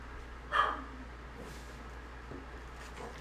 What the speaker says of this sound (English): Got a barking dog out